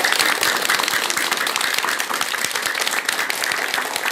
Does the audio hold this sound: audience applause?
yes